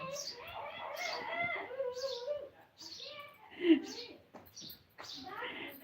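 A young bird gives a series of short, high chirps at a close distance, spaced through the clip, while people talk over and between the calls.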